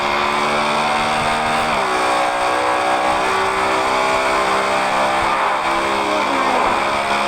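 Motorbike engine in the Traffic Rider mobile game, a loud continuous synthetic drone that rises in pitch as it revs, with a sharp dip and climb of gear shifts, steady throughout with no talking.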